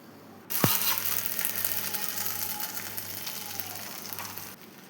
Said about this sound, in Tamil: வெண்டைக்காய்களை சேர்த்து நல்லா வதக்கி விடலாம்.